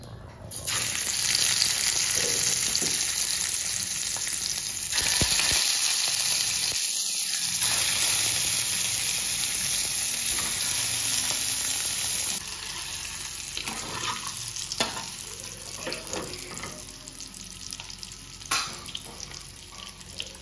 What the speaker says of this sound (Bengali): আমাদের আন্ডাটা ফ্রাই করা কমপ্লিট।